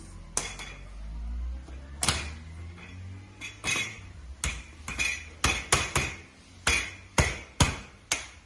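A Swisstrax modular floor tile, trimmed to fit around a pipe, is pressed into place with a series of sharp, loud plastic snaps and knocks, irregular at first and then coming in a quicker rhythm.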